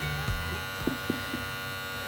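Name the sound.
Wahl Magic Clip hair clipper running with new motor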